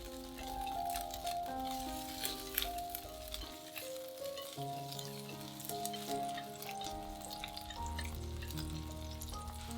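Scallion, ginger, garlic, cinnamon bark, star anise, dried chilies and bay leaves fry in a little scallion oil in a wok, a steady crackling sizzle running throughout beneath prominent background music.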